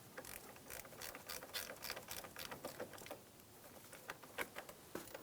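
A ratchet clicks quickly and steadily while a bolt is snugged down during a starter replacement on a 2003-2008 Honda Pilot, with a rapid, close, fairly quiet patter of pawl clicks and no talking.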